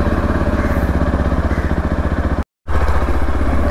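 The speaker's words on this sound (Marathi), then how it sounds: "कोल्ड स्टार्ट करूया." A Yezdi Adventure motorcycle's engine cold-starts and idles, a loud close thumping beat with a rapid steady rhythm, briefly cutting out before resuming.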